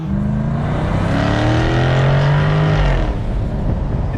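A Jaguar F-Type R's V8 revs hard and loud for about four seconds, its exhaust crackling and cackling as the pitch climbs and falls, heard up close with no talking.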